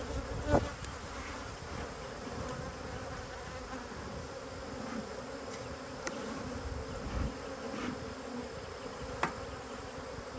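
Honey bees buzz steadily around an open beehive deep box during a frame change at an apiary, a dense continuous drone close by with a few individual bees passing nearer.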